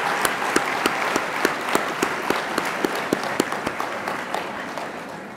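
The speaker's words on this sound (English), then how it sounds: "Let's give a final round of applause for all our 30-year awardees." An audience at a university annual employee awards program applauds 30-year service awardees, sustained steady clapping with a few sharp, nearby claps standing out above the crowd.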